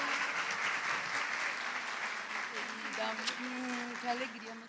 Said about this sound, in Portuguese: Aplauda ela bem forte